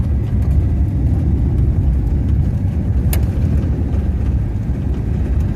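Steady low rumble of a car driving, continuous road and engine noise heard from inside the vehicle with no talking.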